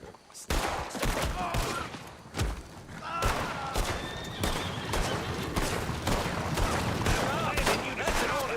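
Dense, continuous video game gunfire, rapid overlapping shots and heavy thuds at close range with loud bursts throughout, while a person's voice can be heard over the shooting.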